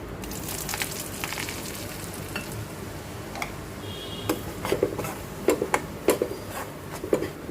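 Semolina mixed with gram flour roasts in ghee for halwa, giving a soft, steady sizzle throughout with occasional sharp spoon scrapes and clinks against the pan, growing busier near the end.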